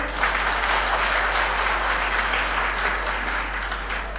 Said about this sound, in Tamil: முதல்ல இந்த காம்பேர் பண்ண சகோதரிக்கு நல்லா கைத்தட்டுங்க